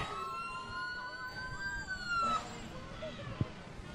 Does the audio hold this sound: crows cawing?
no